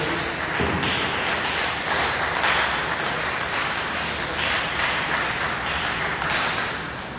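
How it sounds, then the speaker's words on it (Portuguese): A church congregation applauds during an evangelical service, producing a continuous, busy wash of clapping with scattered sharper claps, steady and fairly loud for several seconds before easing at the end. "Quem pode dar uma salva de palmas para Jesus?"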